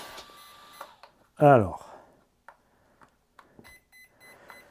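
A Hobbywing speed controller in a 1/6 scale RC rally car emits short electronic beeps during calibration, with a brief tone near the start and a steadier series of beeps toward the end. Someone speaks briefly in between.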